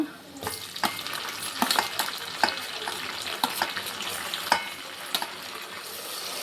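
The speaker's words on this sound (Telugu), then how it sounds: "టమాటా వేసి బాగా మెత్తగా వేయించుకున్నా" Tomatoes tossed into golden fried onions in a pan for chicken biryani give a continuous close sizzle, punctuated by sharp scraping stirs every half second or so, with no voices.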